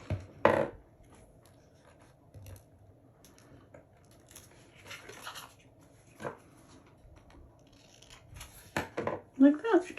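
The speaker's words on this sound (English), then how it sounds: "And then cut off the extra." Scissors trimming excess material from a handmade craft tag, a few sharp snips spaced out over a quiet tabletop background, with faint handling scrapes between cuts.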